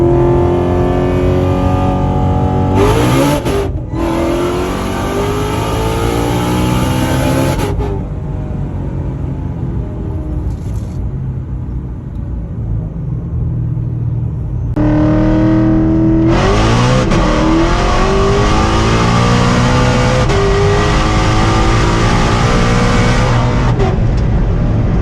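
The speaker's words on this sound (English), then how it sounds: "The acceleration is nuts in this car." A 2020 Shelby GT500 making 1200 wheel horsepower on the stock engine and supercharger roars loudly as it accelerates hard on the street, its engine pitch climbing through repeated gear pulls with a brief lull midway.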